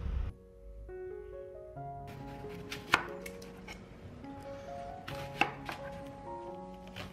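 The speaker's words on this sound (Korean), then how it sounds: "양파는 얇게 썰어 주시고요." A knife slices onion thinly on a cutting board in a quiet kitchen, with soft repeated cuts and a couple of sharper knocks, while a tonal melody plays underneath.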